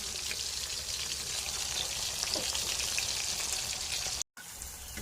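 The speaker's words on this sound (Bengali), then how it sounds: "এই তো আমি মাছগুলো সম্পূর্ণ ভেজে নিতেছি" Steady, dense sizzling of rohu fish frying in hot oil, close and continuous, with a brief dropout near the end.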